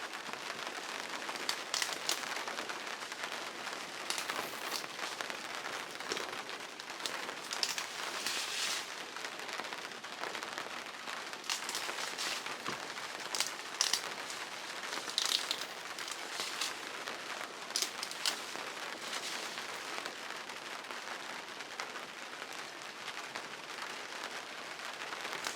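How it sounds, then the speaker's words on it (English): Steady rain falls outdoors, a dense even patter with occasional sharper drops. It stays fairly soft and constant throughout and carries no speech. "Oh, it really started raining now."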